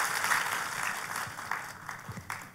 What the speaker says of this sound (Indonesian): Kalau mau tepuk tangannya boleh yang paling meriah buat Yesus Tuhan kita.